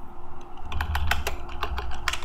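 Quick clicking keystrokes on a computer keyboard while entering a command into a terminal, a short irregular burst of close taps over a faint steady hum.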